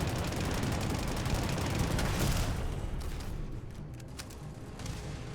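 Explosive-round gunfire from a video game weapon rattles in a dense, continuous barrage of bursts and booms that thins out partway through into scattered rapid cracks, fairly loud and unbroken by talk.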